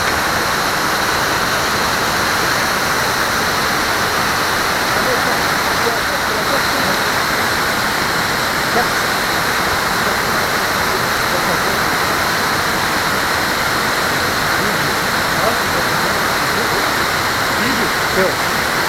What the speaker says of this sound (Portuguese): Interessante, mais cascata lá.